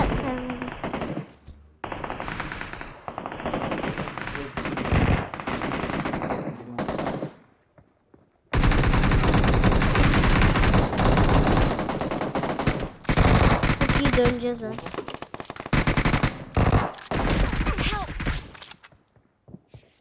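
Automatic gunfire in the mobile battle royale game PUBG Mobile: long, loud bursts of rapid shots broken by a short silence, with scattered single shots, thuds and some talking between bursts.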